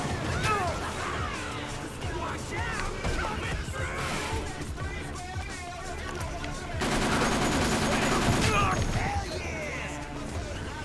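Rapid rifle gunfire from sniping in the zombie video game Dead Rising, bursts of shots crackling over busy game sounds and music, with a dense, loud stretch of firing near the end while a person talks.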